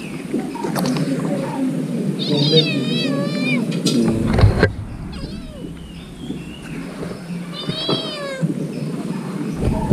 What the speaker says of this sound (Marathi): तर ही आपली मांजरं आहेत